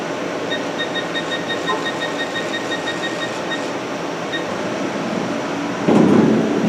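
Chip auger running on a Haas VF-4 vertical machining center, a steady mechanical hum and whir with faint high tonal whine, close by, ending in a brief louder burst of noise.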